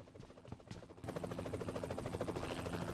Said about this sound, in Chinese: 有飞机